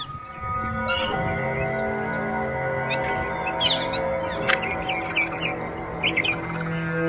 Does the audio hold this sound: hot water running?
no